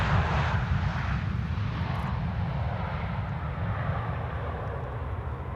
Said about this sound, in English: also a 737 landing here on the Polderbaan